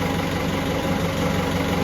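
A TDI diesel engine swapped into a Jeep Wrangler idles with a new intercooler fitted, a loud, steady, close-up rumble with an even low throb and no talk.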